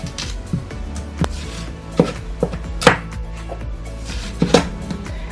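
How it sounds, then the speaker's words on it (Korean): A knife cuts down the sides of a watermelon, with several separate crunchy cuts and thuds spaced irregularly over a quiet background. "옆면을 길게 썰어낸 다음 손으로 딱 분리해 주시면 된답니다"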